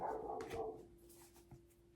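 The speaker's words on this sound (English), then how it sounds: "sorry for all the doggy noises" Dogs in a street: one barks in a quick burst, followed by a few faint yips and a thin high whine, distant and fairly quiet.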